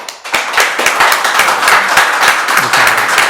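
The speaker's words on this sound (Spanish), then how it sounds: "démosle un aplauso y con todo nuestro agradecimiento" A small audience applauds after a university philosophy lecture: loud, close clapping that starts suddenly, with distinct individual claps audible within the steady patter.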